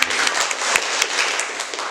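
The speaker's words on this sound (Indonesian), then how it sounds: "Boleh tepuk tangan buat Mas Mici." Students in a classroom clap their hands together, a brisk burst of many overlapping claps close by for about two seconds, lively and uneven.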